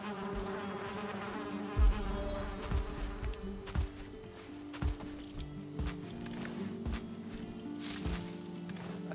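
Bees buzz around a beehive in the video game Valheim, a thin insect drone carried over repeated thuds and clunks of game footsteps and actions, moderately quiet, with no voices over it.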